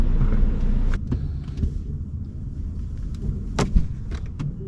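Car rolling forward on light throttle, a low, steady engine rumble heard from inside the cabin with a few faint clicks and thumps.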